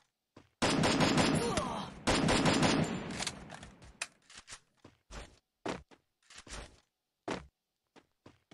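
Two long, rapid bursts of close automatic gunfire ring out in the Free Fire battle-royale game, followed by a scatter of short, sharp thumps and footstep-like knocks spaced apart.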